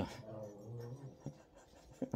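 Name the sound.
dog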